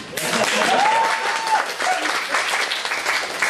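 Audience at the IndigNation 2013 event applauds a herald, a dense, steady wash of clapping that stays loud throughout, with a brief voice and a whistle-like tone rising above it early on.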